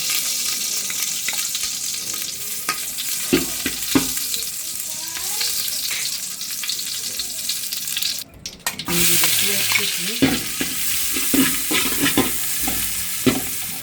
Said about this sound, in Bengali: এখন আমি চালটা কষাবো এখন ঘি দিয়ে দিলাম